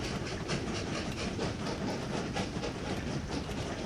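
A train rolls along rails in the Train Valley video game, a steady continuous rumble with faint clickety-clack, moderately loud and unbroken throughout, with no talking.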